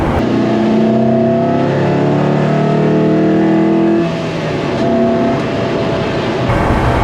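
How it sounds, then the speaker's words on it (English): Inside the cabin of a Lotus Elise with a Rover K-series engine and an induction kit just behind the passenger seat, a loud droning engine rises and holds pitch, then steadies into cruising under a rushing intake roar. "this one is even noisier in here, especially with that induction kit literally sitting just behind the passenger seat."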